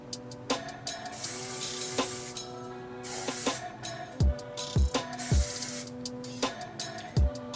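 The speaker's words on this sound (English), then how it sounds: "To spray the hell out of it with some hairspray." Hairspray hisses onto hair styled into a high donut bun, in a few bright spray bursts of around a second each, heard over steady background music with a beat.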